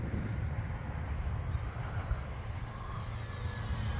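An RC P-51 Mustang model airplane drones steadily at about half throttle, a low, even engine hum carried on wind noise at a moderate distance.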